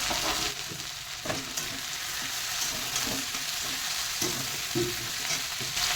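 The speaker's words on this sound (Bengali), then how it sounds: "আর এই উচ্ছে পাতাটা আমি ভালো করে ফ্রাই করব" Bitter gourd leaves frying in a pan with potato and tomato give a steady, close sizzle, with occasional stirring scrapes over about six seconds and no talk.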